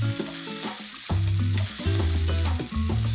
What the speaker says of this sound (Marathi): तेलामध्ये परतून घेतोय आपण ते.